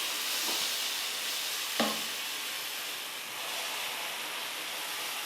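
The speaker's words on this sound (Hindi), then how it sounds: "अभी हम इसे तलने के लिए डाल देंगे।" Dahi vada batter dropped into hot oil in a kadhai, a loud continuous broadband sizzle close up, with a brief splash of added batter partway through and no speech.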